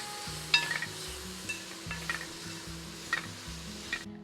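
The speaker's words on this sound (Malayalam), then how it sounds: "ഇനി ഇതിന് ഇവിടെ കിടന്ന് നല്ലോണം ഇളക്കി ഇളക്കി ഒന്ന് ഡ്രൈ ആക്കി എടുക്കണം" Beef dry fry with ground pepper and garam masala being stirred in a pan, giving soft scraping and light clinks over a low sizzle, with a few sharper spoon knocks against the metal.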